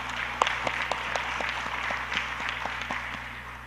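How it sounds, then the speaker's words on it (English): Audience at a policy dialogue on the South China Sea gives the panel a round of applause, even sustained clapping with distinct sharp claps, over a low steady room hum. "Let's give them a round of applause"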